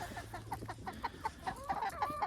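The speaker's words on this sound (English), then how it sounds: "is just an amazing rooster" A rooster named Colonel gives a quick run of clucks, close and distinct, several short calls in an uneven rhythm with farmyard sounds behind.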